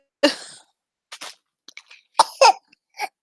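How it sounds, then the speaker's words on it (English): A baby coughs in a scattered series of short, close bursts, some single and some in quick pairs, separated by silences. "I muted because baby was coughing."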